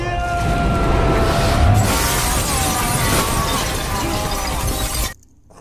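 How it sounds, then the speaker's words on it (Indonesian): Glass crashes and shatters at length as a glass rack is smashed during a fight in an action film, a loud, dense burst lasting several seconds before cutting off to quiet. "Inspektur Ma berhasil membunuh Wong Po dengan menancapkannya di rak gelas"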